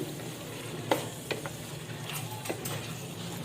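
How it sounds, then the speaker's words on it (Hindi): Fresh coriander being stirred into a pan of Shinwari beef karahi, with a steady low sizzle of frying throughout and a few soft, scattered scrapes and clinks of the spoon against the pan. "बस थोड़ा सा हरा धनिया डाल रही हूँ मैं इसमें। इसको भी इसके साथ मिक्स कर देंगे।"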